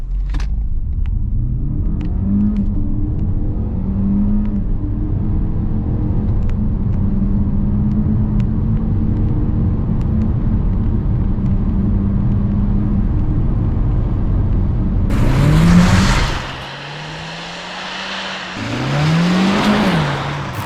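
Peugeot 508 PSE accelerating on a test drive: a loud, close engine drone rising steadily in pitch through the gear, then a brief dip at a shift before revving up again, with no talking.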